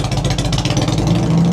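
Loud, steady motorcycle engine rumble close by as the bikes start up outside a saloon in Goodsprings, Nevada, a low throbbing idle with a rising rev toward the end.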